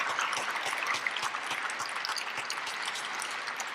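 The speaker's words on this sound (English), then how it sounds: "So one more round of applause, please, for Mary Caskey and her family" A lecture audience applauds Mary Caskey and her family, sponsors of the Caskey Lecture, with steady, moderately distant clapping from a sizable crowd that continues evenly throughout.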